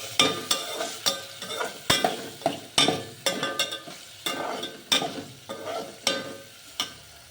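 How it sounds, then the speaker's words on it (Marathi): Turmeric and salt stirred into a frying pan, with a spoon scraping in repeated strokes over a steady sizzle, the clinks and scrapes coming about every half second, close and moderately loud. "इथं टाकायची हळद आणि चवीनुसार मीठ आणि हाफ फिरून घ्यायचा"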